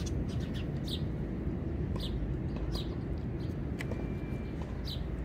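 Birds chirp in short, scattered tweets over a dense, steady background roar while being fed bread outdoors, the calls faint and intermittent.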